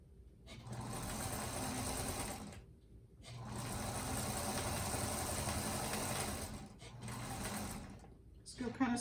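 A sewing machine runs in long steady stitching bursts over the bulky seams of a quilted table runner, pausing briefly between passes, with the whir close and fairly quiet.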